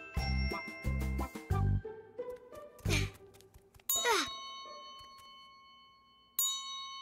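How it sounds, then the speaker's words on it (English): A metal bell rings loudly in a children's cartoon, several quick clangs in a cluster followed by a struck ding that hangs and fades, then another bright ring near the end. "That's because bells are made of metal. Yes, it's loud. So this isn't a horrible bell."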